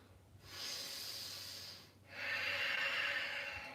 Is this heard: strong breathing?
yes